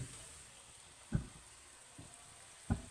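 Masala sizzles in a pan after tomato paste is added for aloo matar, a steady soft frying hiss with a few brief stirring scrapes and thumps, close and fairly quiet, with no talking.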